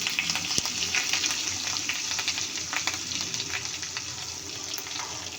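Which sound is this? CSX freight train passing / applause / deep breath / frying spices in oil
frying spices in oil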